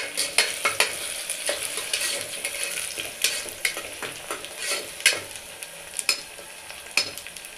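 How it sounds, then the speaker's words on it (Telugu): Onions and curry leaves fry in a pan for chicken curry, a bright steady sizzle with repeated scraping stirs and light spatula knocks at close range. "ఆనియన్స్ ఫ్రై అవుతున్నాయి"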